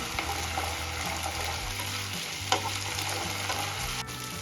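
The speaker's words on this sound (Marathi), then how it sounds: "अद्रक लसूणची पेस्ट छान परतून घ्यायची" Ginger garlic paste sautéing in a pan for keema masala, a soft continuous sizzle with a few light spatula scrapes and a brief clink near the end.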